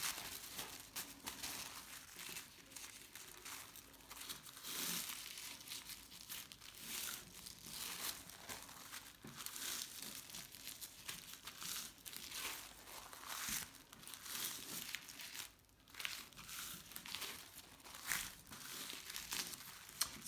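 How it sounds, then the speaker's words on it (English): Sheets of paper being folded back and forth in a concertina fan style for paper flowers, a steady close crinkling and crumpling with sharp creasing bursts, no talking. "what I'm going to do is I'm going to fold them in a concertina fan style"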